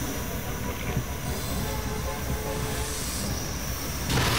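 Cartoon train cars roll along with metallic wheel squeal and rumbling track noise, steady and fairly loud, with a brighter burst near the end.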